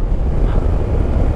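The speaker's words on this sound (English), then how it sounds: "it's quite windy through here" Wind roars over a microphone during a motorcycle ride through a windy stretch toward the Scottish borders, a loud, continuous low buffeting rumble with no breaks or talk.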